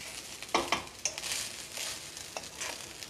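Egg fried rice is stirred and mixed in a pan, a soft scraping shuffle with a few sharper spatula knocks early on over a faint background sizzle.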